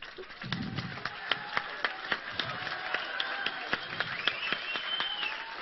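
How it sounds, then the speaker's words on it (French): An audience at an award ceremony claps in a steady, evenly spaced rhythm, with sharp, distinct hand claps repeating over a faint murmur of the room. "est-ce que je peux vous redemander une deuxième fois d'applaudir pour une petite vidéo"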